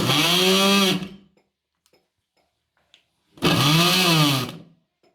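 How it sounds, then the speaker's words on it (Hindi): Electric chopper whirring at full speed through onion, green chillies and coriander, two loud bursts of about a second each separated by a quiet pause, with the motor's pitch rising and falling as it runs. "प्याज, सब्ज़ मिर्चें और धनिया मैंने चॉपर में डाल दिया है। अब हम इसे चॉप"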